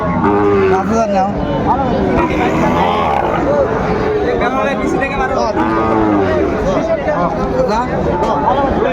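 Sahiwal bulls and other cattle moo repeatedly at a busy livestock market in Raniganj, Dhaka, loud, overlapping and close, over a constant murmur of crowd chatter.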